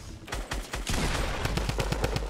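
Gunfire in the video game Fortnite comes as loud, close, rapid bursts of shots with heavy low thumps, running almost nonstop.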